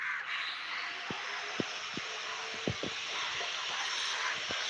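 Several crows caw in short, separate calls scattered over a steady low rumble like a distant aircraft, the birds at middling distance with no speech.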